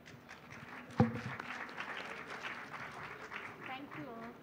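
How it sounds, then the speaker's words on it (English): A panel discussion audience claps steadily at the close of the session, with a dense wash of applause filling the room and a speaker's voice rising over it toward the end. "A big round of applause for Matt Frei, Harald Hauge, Pavan Varma, Ru"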